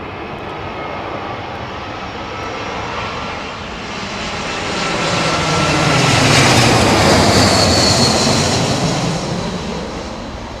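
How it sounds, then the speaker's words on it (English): Propeller engines of the Red Bull (Flying Bulls) Douglas DC-6 drone loudly and steadily, swelling as the aircraft passes nearest and then easing off, with no talk. "The Red Bull DC6."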